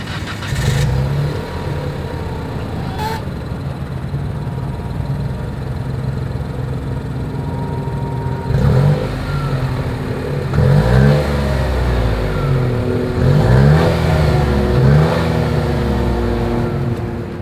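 Exhaust of a 2022 Nissan Rogue SUV, idling steadily and then revved several times in short bursts, the engine note rising and falling close to the tailpipe with no talking.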